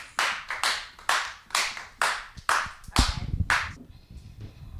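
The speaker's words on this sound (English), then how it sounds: "Give her a round of applause" A small group claps in a round of applause on a live dating-game show, seven or eight distinct bursts of hand claps in an uneven rhythm that fade into scattered taps and faint murmurs at the end.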